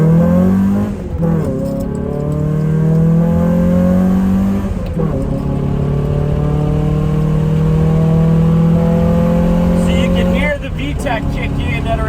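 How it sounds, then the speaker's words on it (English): Honda Prelude accelerating hard on a back road, engine note climbing steadily through the gears with brief dips at each shift, loud and steady inside the car. "I'm going to see if I can get a decent clip of the acceleration"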